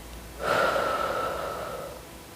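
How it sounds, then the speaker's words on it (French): A single long breath drawn in during a floor stretching and flexibility routine, starting abruptly and fading slowly, close and fairly loud with airy, slightly hoarse texture and no talk. "Inspire et expire."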